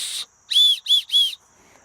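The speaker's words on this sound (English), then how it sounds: "So this is a whistle" A whistle built into a 28-in-1 survival kit combo tool, also a spork and knife, blows one short shrill blast, then three loud piercing toots in quick succession, close and alone.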